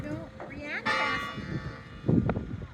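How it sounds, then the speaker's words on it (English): Church bells ring on a snowy Sunday in the French mountain village of Le Sappey-en-Chartreuse, sounding distant and faint beneath people chatting nearby. "You hear the church bells."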